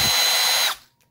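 A Milwaukee M12 Fuel second-generation 1/2-inch brushless drill runs with a loud, high, steady motor whine, then stops abruptly and spins down into silence.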